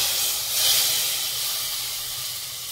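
Kashmiri red chili powder hits hot oil for a tadka over kadhi pakora, a loud, even hissing sizzle that swells briefly and then settles.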